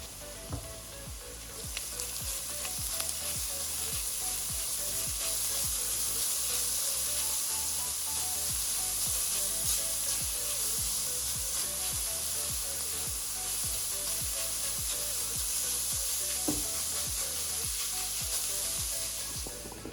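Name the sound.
carrots frying with onions in a pan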